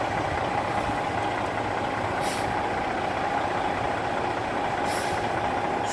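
Semi truck idling and creeping forward during a 90-degree backing maneuver, a steady close diesel drone with two short airy hisses from the brakes.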